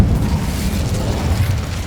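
An Incendio fire spell erupts in Hogwarts Legacy as a loud, deep whooshing burst of flame that rumbles steadily for about two seconds without any voice over it.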